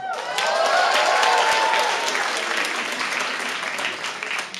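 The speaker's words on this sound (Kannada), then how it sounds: "ಈಗ ಚಪ್ಪಾಳೆ ಹೊಡೆದ್ರಲ್ಲ" Audience at a Kannada stand-up comedy crowd-work show breaking into applause, a loud burst of many hands that swells early and stays dense before tapering slightly toward the end.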